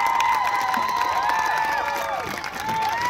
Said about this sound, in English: another round of applause for the Peoria High School Marching Band